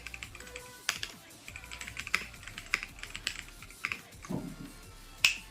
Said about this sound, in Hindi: टाइपिंग में जो इस कीबोर्ड में साउंड आपको मिलने वाली वो आपने सुन लिया होगा।